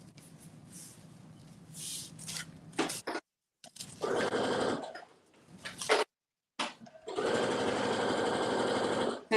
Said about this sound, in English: I'm just stitching the shoulder seams now.